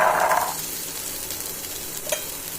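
Boiled black chickpeas being sautéed with spices in a pan, with an opening burst of noise, then a steady low sizzle and one brief scrape of a spoon near the end, close and fairly quiet with no voices.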